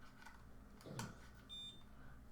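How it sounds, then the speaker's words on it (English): An INR test meter emits a short faint electronic beep close by in a quiet room, followed by a brief higher tone. "It'll beep and tell you you're good."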